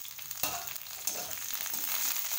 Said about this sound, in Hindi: आलू गोभी फ्राई हो गई है